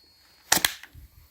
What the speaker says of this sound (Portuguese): Eu vou bater aqui e ela vai carregar o cilindro aqui dentro